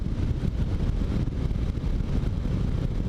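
A Yamaha Tracer 7 motorcycle holds fourth gear at moderate revs, its engine a dense, steady low drone mixed with rushing wind noise across the microphone, with no speech.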